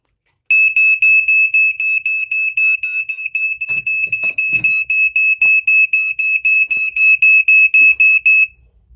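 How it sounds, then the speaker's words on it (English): An ionization smoke alarm sounds close and loud in a rapid series of piercing high electronic beeps for about eight seconds, with a few brief handling clicks partway through. "Now let me just sound this one."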